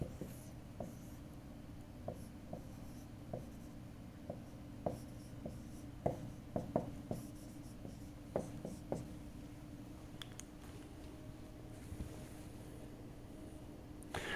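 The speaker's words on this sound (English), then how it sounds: "let me write down Ampere's law" Marker or chalk writing on a board in a physics lecture on Ampere's law: a steady run of short scratchy strokes and taps, close and fairly quiet over a low room hum, with no voices.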